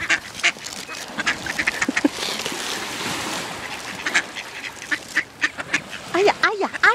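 Ducks quack repeatedly close by, harsh and irregular, mixed with splashing and rustling, with a person's voice heard between calls.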